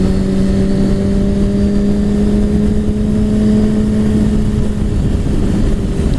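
A 2017 Suzuki GSX-R1000 motorcycle engine on the road, a loud, close, steady humming drone with a strong low tone, wrapped in constant rushing wind noise and no speech.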